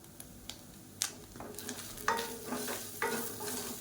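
Pidi kozhukattai mixture being stirred in a pan, a few soft scraping strokes and light clinks close by with a gentle sizzle, quiet and without talk.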